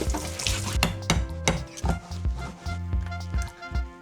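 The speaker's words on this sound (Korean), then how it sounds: "자, 그럼 도마를 씻고 대망의 홀토마토를 한번 따보도록 할게요." A can of whole tomatoes is forced open in a kitchen without a can opener: a run of sharp, close metallic knocks and scrapes, irregular but steady, with no talking.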